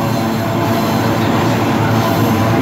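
A GE AC44i Wabtec locomotive hauls new freight wagons past at night, giving a loud, steady rolling roar with rail and wheel noise close by.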